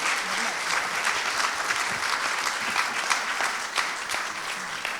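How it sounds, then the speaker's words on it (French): An audience at a round-table event applauds two guests, a sustained, even wash of clapping from a sizeable crowd, loud and continuous for about five seconds. "j'aimerais encore une fois qu'on applaudisse M. Chéreau et Mme la députée"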